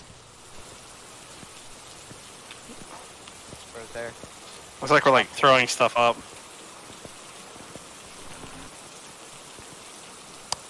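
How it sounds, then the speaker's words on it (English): Steady light rain in Phasmophobia patters throughout, with voices briefly talking over it in the middle. "Oh, it's raining."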